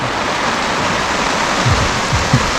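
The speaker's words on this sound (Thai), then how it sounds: "ฝนก็ตกลงมาแรงเลยนะครับ" Heavy rain pours down at a riverside campsite in Suan Phueng, Ratchaburi, a dense, loud steady hiss with a few faint low thumps underneath.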